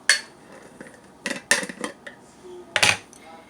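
A bar spoon clinks and taps against a glass while a whiskey cocktail is being mixed. Several bright, close metallic clinks come in short, irregular bursts with quiet pauses between them and no talking.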